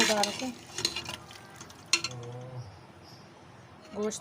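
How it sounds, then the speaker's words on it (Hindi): Beef pieces frying and being stirred in a pan, with soft sizzling and scraping clinks of a spoon against the metal, a few brief louder stirs standing out over a steady low fry. "ये देखें कितना ज़बरदस्त हमारा गोश्त फ्राई हो चुका है।"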